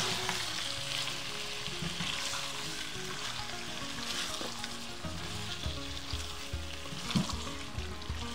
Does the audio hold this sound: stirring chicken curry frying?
yes